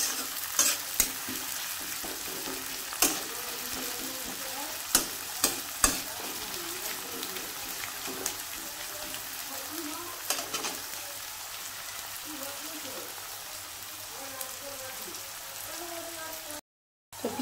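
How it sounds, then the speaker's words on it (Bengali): Chopped onion fries in a pan with a soft, steady sizzle punctuated by scattered light clicks and stirring taps, fairly faint throughout. "এবার পেঁয়াজটাকে ভালো মতো করে আমি ভেজে নেব।"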